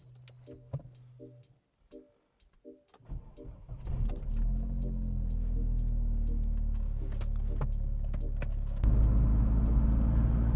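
Vauxhall Astra VXR with an M32 gearbox on 18-inch wheels, starting with clicks and ticks, then the engine swells into a steady driving rumble that grows louder near the end.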